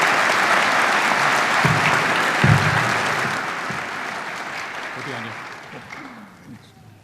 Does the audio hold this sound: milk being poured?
no